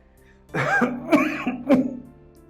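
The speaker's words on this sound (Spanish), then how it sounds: "me atacó la tos" A person coughs and clears their throat several times in quick succession, close and fairly loud, with quiet moments before and after.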